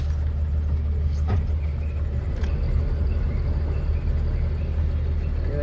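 A vehicle approaching on a road, heard as a steady low rumble of engine and tyres that holds throughout, with faint background noise and no talk.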